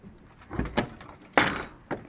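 A few soft, low pigeon coos close by in a pigeon loft, joined by a brief flutter or scrape, with no talking.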